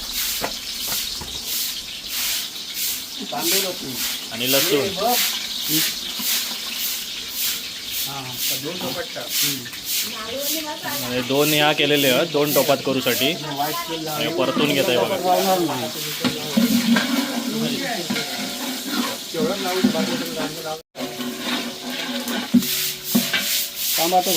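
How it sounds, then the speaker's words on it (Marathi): Onions fry in hot oil in a large pot, a loud continuous sizzle with steady scraping and stirring throughout, while a person talks over it. "तेल तापता आवाज येलो आता कांदो टाकून घेऊया आणि परतवून घेऊया"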